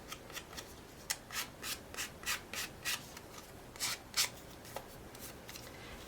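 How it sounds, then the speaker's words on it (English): A BasicGrey precision file sands down the notches of paper cutouts by hand, giving quiet, rhythmic rasping strokes in a steady back-and-forth series with no voices. "you could actually use the BasicGrey precision file set, which is actually a little bit more accurate. You can just sand down"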